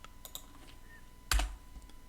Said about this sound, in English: I'll type the password for Elastic